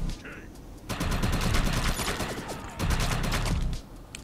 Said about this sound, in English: Look at this big guy trying to get me with his chain gun.